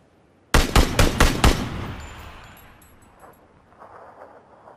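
Gunfire in PUBG: a rapid burst of about six loud, sharp shots in quick rhythm, followed by a long fading echo and faint distant pops.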